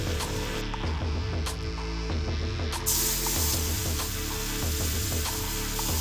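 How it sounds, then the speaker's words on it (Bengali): Spice paste sizzles loudly in hot oil with a bay leaf, a steady, bright frying hiss that flares stronger partway through and continues without a break, while cooking a katla fish curry. "এবার আমি মশলার পেস্টটা তেলের মধ্যে ছেড়ে দিচ্ছি।"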